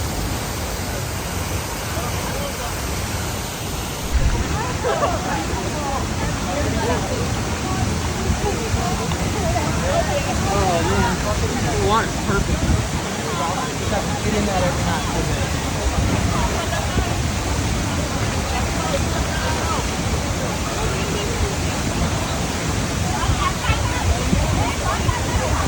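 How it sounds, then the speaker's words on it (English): La Fortuna waterfall in Costa Rica roars as a steady, loud broadband rush of falling water throughout, with voices speaking over it. "How's the waterfall, honey?"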